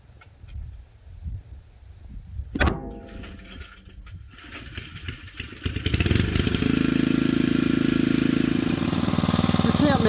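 A Rugg carpet cut mower's small engine is pull-started after a sharp thud and clatter, then catches and runs with a steady, loud mid-pitched drone, preceded by faint talk and shuffling.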